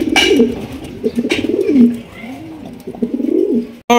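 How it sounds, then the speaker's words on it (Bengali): Chuithal racer pigeons coo at close range on a pigeon farm, giving soft, repeated rolling calls in several overlapping bursts, with a sharp click near the end. "চুইঠাল রেসার কবুতর, সবজি চুইঠাল রেসার"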